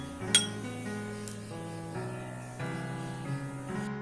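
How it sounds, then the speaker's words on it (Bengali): A spoon clinks against a mug while powdered milk is stirred in for a mug cake, with a sharp strike near the start followed by ringing, repeated metallic tings, close and clear with no voices. "2 চা চামচ পরিমাণ দিয়ে আমার পাউডার মিল্কটা ভালো করে মিক্স করে নেব।"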